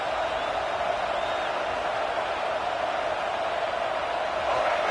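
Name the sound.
stadium crowd noise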